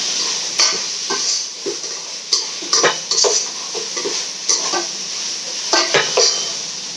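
Tomatoes with ginger garlic paste and salt sautéing in a pan for mushroom biryani, a steady close sizzle with repeated spoon scrapes and clinks against the pan, no talking.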